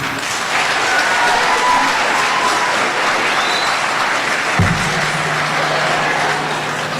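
An audience at a school signing-day event claps in sustained, dense applause filling the room, with a faint voice or tone entering near the end.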